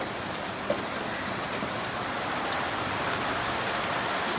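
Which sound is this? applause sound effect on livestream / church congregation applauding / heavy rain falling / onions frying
heavy rain falling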